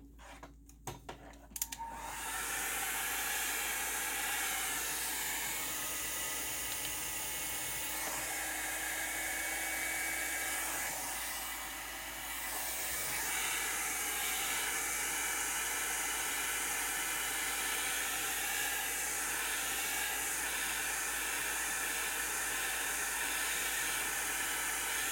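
A blowing dryer tool runs steadily while drying alcohol ink, a loud continuous close-up whooshing hiss that holds for the whole stretch after a few brief knocks at the start.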